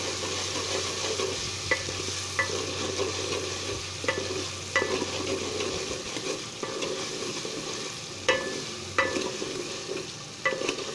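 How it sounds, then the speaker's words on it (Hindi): Tomatoes fry in masala with salt and chili for dal chawal, giving a steady close sizzle with a spoon stirring and scraping the pan at intervals, and no talk over it. "इसको अच्छे से मैं इसमें मसाले में फ्राई कर लेता हूँ"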